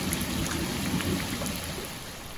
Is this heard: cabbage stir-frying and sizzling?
no